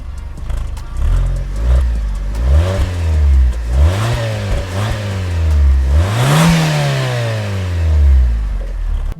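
A Fiat car engine revs hard as the car pulls away, rising and falling in repeated loud, close surges through the gear changes.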